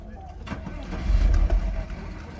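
A used car with an automatic gearbox, outdoors at a car market, its engine catching and revving up briefly in a low rumbling surge, with someone talking nearby.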